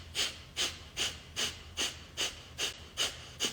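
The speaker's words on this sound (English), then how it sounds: "Start the breath of fire practice." Breath of fire, a rapid pumping breathing exercise: eight sharp, evenly spaced exhalations about half a second apart, close and breathy, with no speech.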